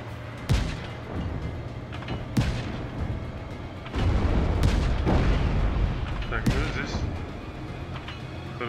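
Gunfire and explosions in Just Cause 3, with sharp isolated shots and deep booms over a rumbling battle background, while someone talks in Russian.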